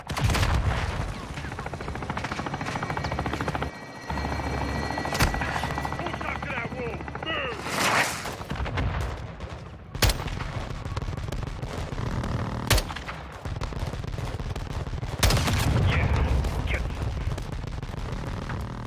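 A helicopter makes an attack run on a building in the Modern Warfare 2 video game, with heavy rotor drone under bursts of machine-gun fire and loud booming impacts, while radio voices talk over the gunfire.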